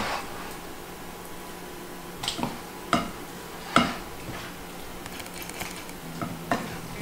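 A spoon presses and scrapes through meatballs in a simmering bolognese sauce, giving soft, scattered squelching knocks against the pot over a quiet bubbling background.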